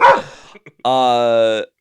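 A dog barks once, a single drawn-out loud harmonic yelp-like bark coming right after a burst of talk, ringing alone for almost a second.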